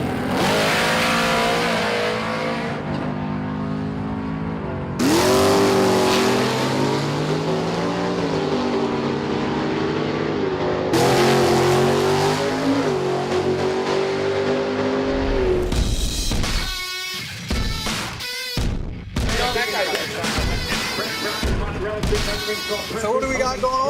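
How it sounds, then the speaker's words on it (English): Race cars rev hard on a track, loud engine notes climbing and falling in long sustained pulls, then choppy bursts of revving and throttle blips, close to the listener. "Racers set their rides on kill to test the limits of the track."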